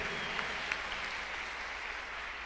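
A church congregation applauds, giving a brief, steady wash of many hands clapping at a fairly low, distant level.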